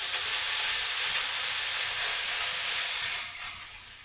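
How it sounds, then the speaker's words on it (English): A loud, even sizzle of rice frying in a hot pan hisses continuously, easing off slightly near the end. "you hear it sizzling"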